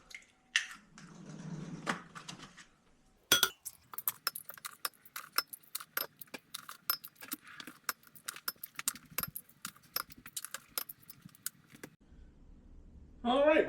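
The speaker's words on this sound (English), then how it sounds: "Next thing we need to do is we need to crack a dozen eggs." A dozen eggs cracked one after another into a bowl for a cheesy keto egg bake, giving a long run of sharp, close taps and cracks with soft wet drips, fairly quiet, no talking.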